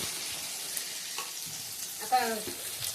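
Onion, garlic, cumin and coconut fry together for a tempering, a soft, steady sizzle with a brief louder burst near the end and faint voices in the background.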